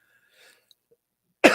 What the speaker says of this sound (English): Sorry about that for the cough.